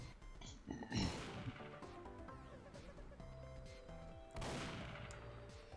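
Gunfire in Garry's Mod, two loud bursts of shots with ringing and clatter between them, fairly close, with scattered game sounds and no clear talking.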